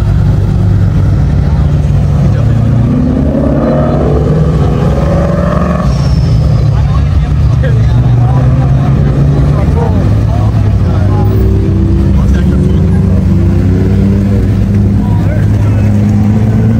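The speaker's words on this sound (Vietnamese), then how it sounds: "Chiếc này là cái chiếc Vito, và cái tiếng nó nghe rất là ngon quý vị." A Mercedes Vito van's engine runs at a car show, a loud steady low rumble with droning tones, while people talk and other vehicles sound in the busy crowd.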